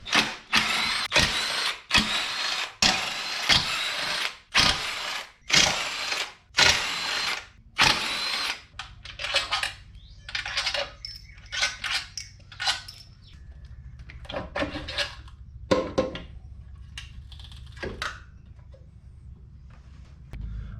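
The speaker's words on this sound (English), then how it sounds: "we have to remove the 7 12mm bolts, and then there's 2 12mm nuts, one right here, one right here." Seven 12mm bolts and two 12mm nuts come off a Honda J-series intake manifold, heard as loud, close ratchet bursts in rhythmic strokes, then sparser clicks and clinks over a low hum.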